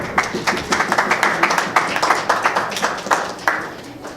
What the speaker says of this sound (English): Let's bring him on with a round of applause.